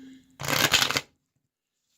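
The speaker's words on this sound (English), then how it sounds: "I don't like it when the shuffle fails." Oracle cards are riffle-shuffled once in a short, close, crisp burst of rapid flapping lasting under a second, followed by silence.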